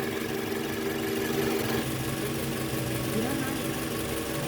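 A Toyota Camry engine idles under the open hood during air-conditioning repair work, giving a steady, even mechanical hum with a faint whine throughout.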